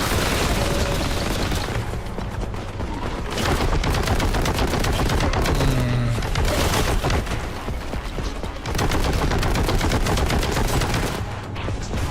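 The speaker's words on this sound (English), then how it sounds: "It is a grenade launcher." A grenade launcher firing in Warhammer 40k: Boltgun, loud heavy blasts and booming impacts packed densely together in a sustained barrage of combat noise.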